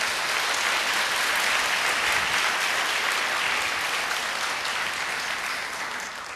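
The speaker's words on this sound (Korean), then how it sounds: "우리 큰 박수로 우리 환영하도록 하겠습니다." Loud, dense applause from a church congregation welcoming a visiting pastor, a continuous roar of many hands clapping close by for over six seconds, easing off slightly toward the end.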